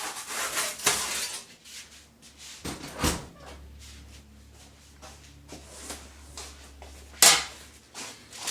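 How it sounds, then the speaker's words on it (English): A pizza goes into a home oven set to its hottest temperature, with clunks and knocks of the oven door and tray, a few sharp taps and a loud clatter near the end, separated by quieter shuffling. "now let's put this in the oven and prepare the next one"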